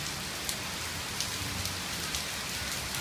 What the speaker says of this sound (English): you want to go play in the rain?